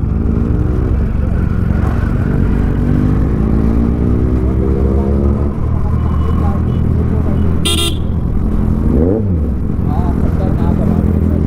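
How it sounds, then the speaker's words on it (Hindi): Motorcycles fitted with Austin Racing aftermarket exhausts at a bike meet-up in Jagdalpur, a loud continuous engine roar with revving pitch sweeps and a brief horn toot, close by, with people talking over it. "सभी भाई लोगों ने और ऑस्टन रेसिंग की जो है एग्जॉस्ट लगा लिए हैं"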